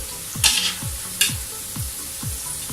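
Onions frying in a pan for a mixed vegetable sabzi, a continuous sizzle broken by two sharp crackling bursts, with a repeating low rhythmic thump running beneath.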